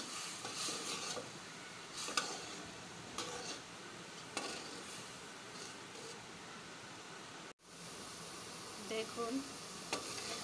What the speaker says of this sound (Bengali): দেখুন কষে আসলে এখন আমি এই হিদলগুলো দিয়ে দেব কষানোর জন্য